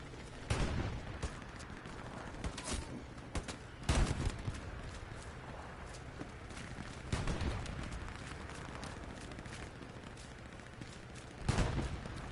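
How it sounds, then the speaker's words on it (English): Gunfire and explosions in the video game Hell Let Loose on PS5: scattered sharp shots and heavier blasts burst out at irregular intervals over a continuous battlefield rumble, moderately distant, with no talking. "I just kind of like the aesthetic of just running and listening to all the explosions"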